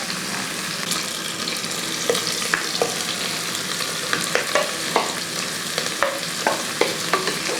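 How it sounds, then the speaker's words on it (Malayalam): Sliced onions and green chillies sizzle steadily in a pan for kappa biriyani, with a spoon scraping and stirring now and then, close and continuous, no one talking. "ഇനി അതങ്ങോട്ട് ഇളക്കി. അപ്പോൾ ഈ സവോളയൊക്കെ ഒന്ന് നല്ലപോലെ ഒന്ന് വഴറ്റിയെടുക്കും."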